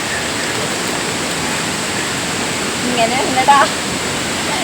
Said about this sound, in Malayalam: മീൻമുട്ടി വെള്ളച്ചാട്ടം നിങ്ങൾക്ക് ഇഷ്ടമായെന്ന് വിശ്വസിക്കുന്നു